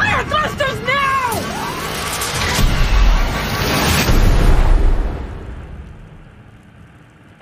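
Spacecraft thrusters fire in a sci-fi film teaser, a loud roaring rumble that builds and swells under electronic warning tones and shouted voices, then fades away toward the end.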